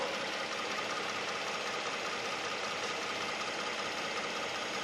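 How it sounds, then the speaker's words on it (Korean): A 3.3-litre V6 engine in a Hyundai Genesis DH G330 idles with a steady, smooth hum and even rumble, continuous and unchanging throughout. "지금 엔진 소리도 너무나도 좋아요 정말"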